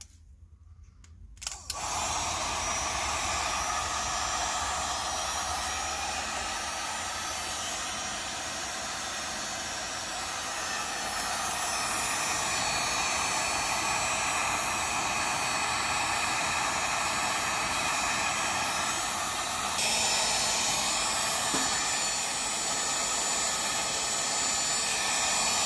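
Hair dryer blowing a steady, loud rush of hot air onto a part inside an RCA R7A radio, starting abruptly after a short silence and running continuously with no talk.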